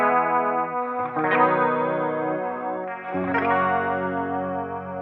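Electric guitar plays three distorted, chorus-laden chords from a song's progression, each ringing out long and loud before the next strikes, with no voices.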